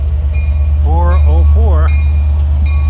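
A Long Island Rail Road train pulls into Babylon station with a heavy, constant low rumble, while a wavering squeal of wheels or brakes rises and bends over it midway through.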